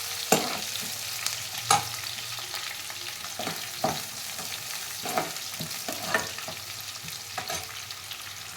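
Onions sauté in a pan with a steady soft sizzle, broken by periodic scraping stirs of a spoon, close and moderately loud, with no talking.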